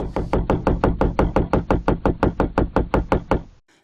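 Knocking on the outside of a van at night: a steady run of about fifteen sharp, evenly spaced knocks, loud and close, stopping abruptly near the end.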